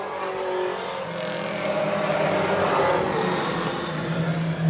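Four-cylinder pro race cars roar around a short oval during a bracket race, engines droning steadily with a swelling pass partway through and continuous mid-distance engine noise throughout.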